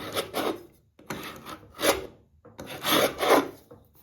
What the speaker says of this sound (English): sometimes you're just better off with one of these carbide tip scrapers, and it will just pull it off